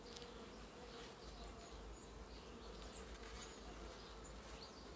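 Honeybees at a colony feeding on a protein source give a faint, continuous buzzing drone with no voices over it.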